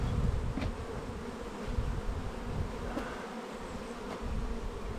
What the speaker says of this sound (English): I'm trying to keep the wasp away.